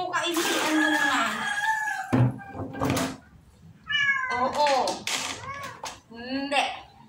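A pet cat meows repeatedly while being bathed, drawn-out cries close to the microphone, interleaved with people talking.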